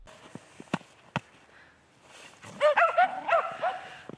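Foster dogs in a family home bark and yip in a quick burst after a few scattered sharp knocks, fairly close and alone without talk.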